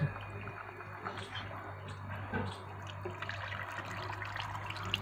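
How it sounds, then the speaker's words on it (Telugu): Water splashes and trickles in small uneven bursts as it is poured over a face during washing, soft and close over a steady low hum. "మొహానికి వాటర్ పోసుకో."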